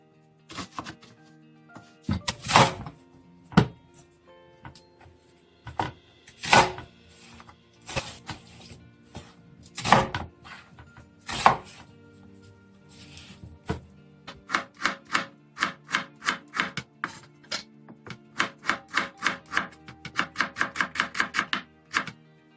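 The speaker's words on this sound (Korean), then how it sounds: "양파, 생강, 고추를 잘라서 믹서기에 갈아 보겠습니다" Quick rhythmic knife strikes on a cutting board chopping onion, ginger and chili, spaced chops at first then a fast steady run of crisp taps, near and fairly loud, no talking.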